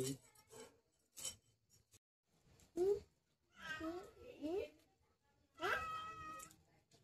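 A cat meows several times in short, rising and falling cries, with quiet gaps between them and some faint background clatter.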